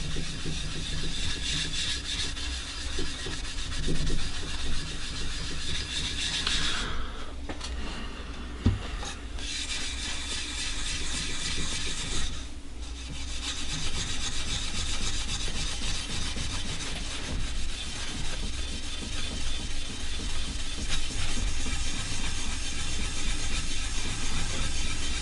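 Steady, hard sanding of a quilted maple guitar body to bring out the grain, with continuous abrasive rubbing strokes close up for the whole stretch, briefly interrupted by a couple of pauses, and no voices.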